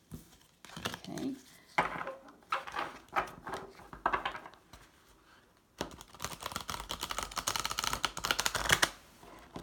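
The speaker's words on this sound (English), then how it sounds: "Just going to quickly pull a couple of other cards." Tarot cards shuffled and pulled from a deck, heard as soft papery riffles and slides in irregular close bursts, with a dense run of rustling near the end and quiet talk earlier on.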